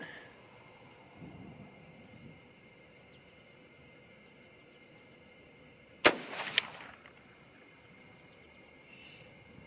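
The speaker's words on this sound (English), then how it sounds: "Second shot." A single rifle shot fired with a 6.8 SPC cartridge at an outdoor range, a sudden sharp crack with a short echo amid quiet ambient hiss, with a faint second click just after.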